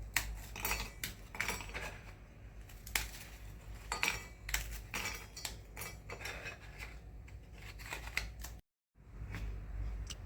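Biscuits for a cheesecake base are crushed fine in rapid bursts of hard clattering and crunching, close up, with a brief silent gap near the end before the clatter resumes.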